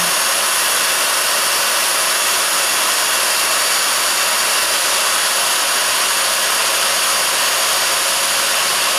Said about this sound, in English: I don't have a drill press, so I'm using a drill.